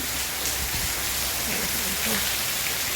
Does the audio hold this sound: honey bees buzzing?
no